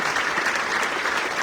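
Dense, steady applause from a church gathering's audience fills the whole stretch, continuous and close, with no gaps.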